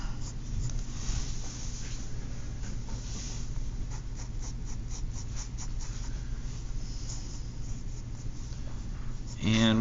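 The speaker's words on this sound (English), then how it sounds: "coming across and then drawing that little earlobe" Pencil scratching across paper while sketching an earlobe in a copy of a Rubens portrait, soft continuous strokes under steady talking.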